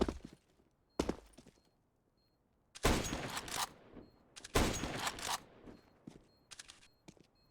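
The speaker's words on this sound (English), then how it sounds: "Blind firing his way, trying to get something out for his scout" Blind gunfire in Counter-Strike on Dust 2 during a competitive esports match, with several separate bursts of shots, some short and sharp, others longer sustained volleys, fairly close and loud with quiet gaps between them.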